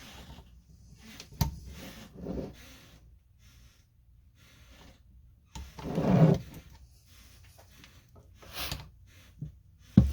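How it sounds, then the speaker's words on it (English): Wooden floorboards creak upstairs in an old house, a few faint, scattered creaks and knocks with quiet gaps between them, the loudest thump arriving around the middle. "You guys hear the floor squeaking upstairs?"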